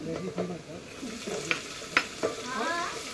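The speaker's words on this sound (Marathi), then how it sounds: "ह्याच्यात जातोय फ्रेश टोमॅटो" Fresh tomatoes frying in a hot pan as a camp cook stirs them, a soft steady sizzle broken by several sharp scrapes and clinks of the spoon against the metal.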